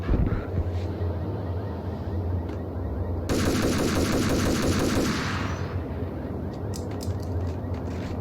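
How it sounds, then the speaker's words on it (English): Shotgun fire in a video game, a loud burst of gunfire sounds over steady game noise and background hum, with a dense blast of noise in the middle of the clip. "That's the shotgun, guys."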